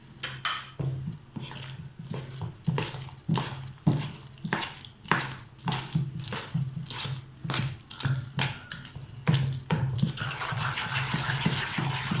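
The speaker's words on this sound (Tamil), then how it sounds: "இந்த வெல்லத்தை இதில் ஃபில்டர் பண்ணி ஊற்றிக்கலாம்" Filtered jaggery syrup is poured into a vessel while making rava paniyaram, with rhythmic splashing and clinking of utensils, close and moderately loud, then a steadier trickle at the end.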